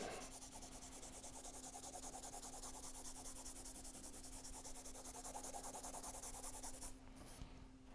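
Steady scratchy rubbing of a paper craft piece, an apple-shaped papercraft being assembled, continuous and close for several seconds before easing off near the end.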